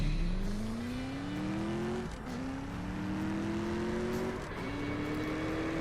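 Race cars accelerating with nitrous boosts in the mobile drag racing game CSR2, engines whining steadily upward through gear shifts with brief dips between, loud and continuous with no talk.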